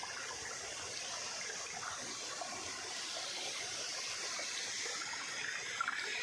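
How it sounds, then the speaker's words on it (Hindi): Water falls steadily at Karkatgarh waterfall in Kaimur, a continuous broad rushing wash that holds even and unbroken throughout with no voices. "वहाँ पे गिर रहा है पानी, देख रहे हैं।"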